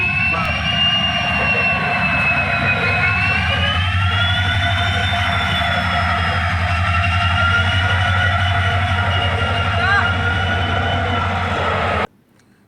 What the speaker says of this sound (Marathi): अमरावती पुणे ट्रेन क्रमांक अकरा चारशे सहा या रेल्वेला आत्ता सुरुवात झाली आहे